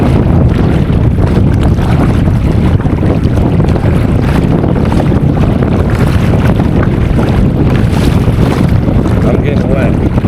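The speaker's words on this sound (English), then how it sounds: "Windy out here." Strong wind at Island Lake in Lost Creek, Nebraska, roars and buffets the microphone continuously with loud, rough low rumble, and water sloshes and laps nearby underneath.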